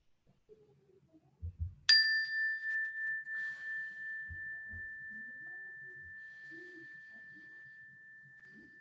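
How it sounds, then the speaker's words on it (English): A meditation bell is struck once and rings out clear and bright, its pure tone sustaining and slowly fading for several seconds over a quiet room, with faint low murmurs beneath. "when you hear the sound of the bell"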